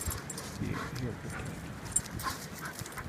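A puppy whimpers and pants softly during a riverside walk in Caledonia, Wisconsin, its small sounds close but low beneath a person speaking gently.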